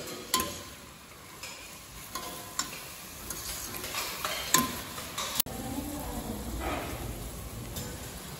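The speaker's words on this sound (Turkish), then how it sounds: "Soğanların hepsini karıştırdıktan sonra, hepsinin yağlanmasını sağladıktan sonra" Onions in oil are stirred in a pot for onion soup, with a spoon making repeated scraping and knocking strokes at an uneven pace over a soft, steady sizzle.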